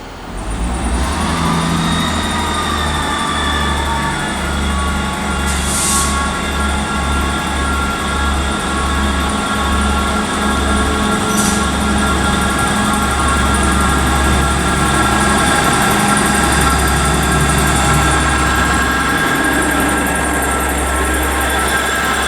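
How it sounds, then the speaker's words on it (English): ScotRail Class 158 diesel multiple unit pulling out of Aberdeen station, a loud throbbing low engine rumble that pulses unevenly and builds, with faint high squeals on top, close and sustained without speech. "next train to depart is going to be 158721 on the 1639 ScotRail service to Stonehaven"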